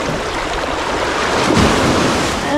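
Ocean waves wash up on Sunset Beach, a loud close surge of surf rushing over sand with wind buffeting the microphone, swelling briefly near the middle.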